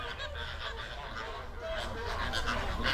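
Flamingos call at a soda lake in Kenya, a dense chorus of overlapping honking, goose-like cries from a large flock, steady throughout and close, with no clear gaps.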